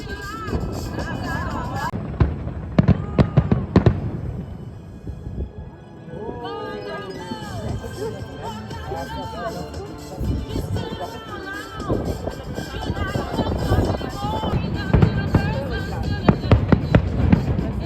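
Fireworks crack and boom in sharp bursts over Paris, heard from the rooftops, some close and loud, while people talk and exclaim throughout.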